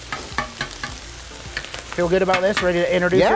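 Pork sizzles and fries on a flat griddle, a soft crackle at first that swells into louder frying and stirring while people talk over it.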